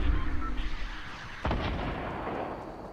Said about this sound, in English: See, they're shooting at it.